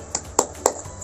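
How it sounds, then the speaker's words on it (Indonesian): Three quick, sharp hand claps of a 'tepuk semangat' spirit clap in a classroom-style lesson, close and crisp, with brief silence between them. "Tepuk semangat."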